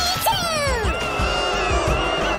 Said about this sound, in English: Why are you booing them?